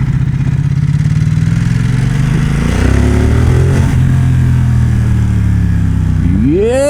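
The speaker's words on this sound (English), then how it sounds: "This bike is still so exhilarating." A 2021 Ducati XDiavel engine roars loud and close throughout, holding steady at first and then revving upward sharply at the end.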